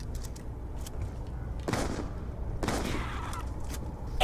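Gunfire in a Call of Duty zombies game on the Nuketown map comes as two loud shots about a second apart, over a low game background and faint clicks.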